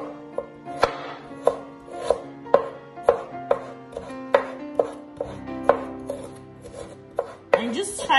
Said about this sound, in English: First, with your ginger, you want to get a thin slice.